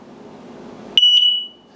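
X-Sense CO2 and smoke detector in test mode gives two short, piercing high beeps close by, the second held a moment longer, following faint room noise.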